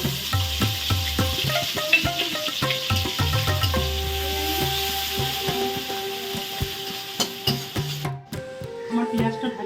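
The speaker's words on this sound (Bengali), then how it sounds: "কড়াইটা ভালো করে পেঁয়াজটা লাল করে ভেজে তুলে রাখবো" Onions frying in a kadai while being stirred, giving a close sizzle broken by scraping and clinking, with bright tonal pings ringing over it and a short break near the end.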